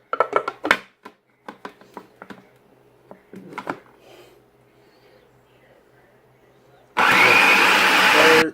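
A food processor grinding almonds into almond butter roars loudly for the last second and a half, after several seconds of quiet clatter and handling noises.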